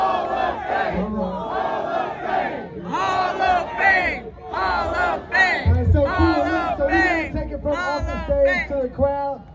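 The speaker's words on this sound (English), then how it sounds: "Make some noise for Luke so far." A crowd at a Roaring Riot event yells and whoops in loud rising bursts, many voices overlapping in excited battle-cry shouts, close and energetic throughout.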